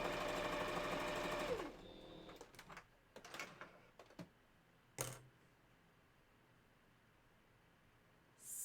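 A sewing machine stitches steadily for under two seconds with a dense whirring rumble, then stops, followed by a few faint clicks and handling taps, a short knock, and the motor briefly starting again at the end.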